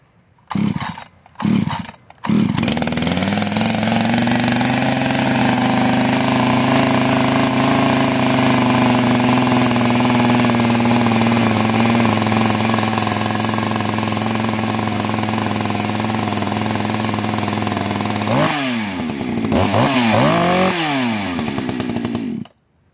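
An Echo 590/620 chainsaw engine being tuned, sputtering through a couple of short starts before settling into a loud, steady high idle that holds for a long stretch, then wavers and revs unevenly near the end.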